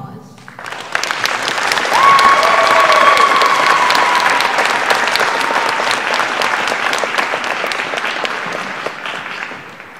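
A school audience applauds at a high school choir fall concert, a dense, sustained burst of clapping close by that rises quickly and tapers slowly over ten seconds.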